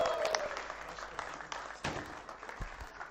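An audience applauds at a stock listing ceremony on the NSE, a brief patter of clapping with a few sharp claps, fairly quiet and slightly roomy.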